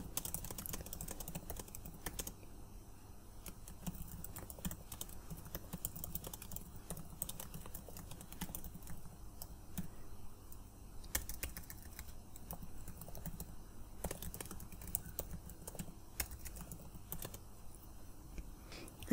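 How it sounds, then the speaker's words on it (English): Typing on a computer keyboard while entering a short introductory sentence on a Wikipedia user page; steady, fairly faint clicking of keys in quick irregular bursts, with no one speaking. "I'm going to type a sentence to introduce myself"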